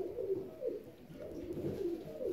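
Fancy ornamental pigeons coo in soft, low, rolling calls that repeat in overlapping waves, close by and steady throughout, with no talking.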